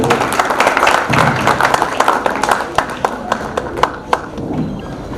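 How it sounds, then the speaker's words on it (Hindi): Loud, sustained applause from an audience at an award programme in Mumbai, dense clapping rising and thinning over several seconds with a few sharp individual claps standing out near the end. "जोरदार ताली"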